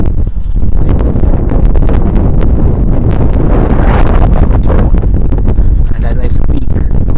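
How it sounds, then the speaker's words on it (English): Strong wind buffets an LG V20 phone's microphone with the mic aimed into the wind outdoors, a loud, continuous roaring rumble with gusty crackles that never lets up. "The wind is blowing directly to me."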